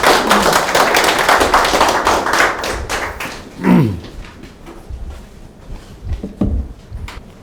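Audience at a Cheongjo Forum lecture applauds to welcome Ahn Jong-bae, president of the International Futures Society. The clapping is loud and dense for about three seconds, then thins to scattered claps and a few dull thumps.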